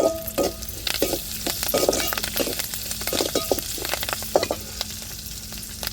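Curry leaves hit hot oil in a pan for a coconut milk rice dish, crackling and sizzling steadily close up while a spoon stirs and clinks now and then.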